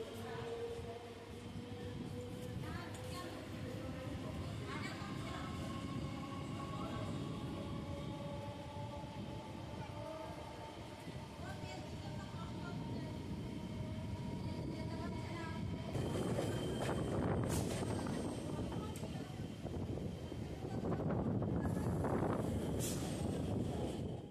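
A local train on the Majerhat to Barasat line runs with a steady rumble and wheel roar, faint whining tones drifting across, growing rougher and louder with clattering bursts toward the end.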